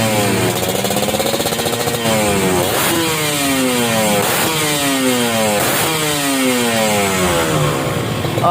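A two-stroke Kawasaki Ninja motorcycle with a rebuilt exhaust revs loudly and repeatedly, its raspy exhaust climbing and falling in pitch several times, close and continuous with no talking.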